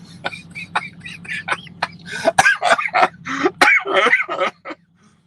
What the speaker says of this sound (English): every time I start laughing, I start coughing